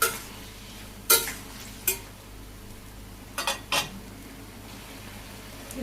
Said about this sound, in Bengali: তরকারি প্রায় হয়ে গেছে, আর একটু জাল আসলে হয়ে যাব।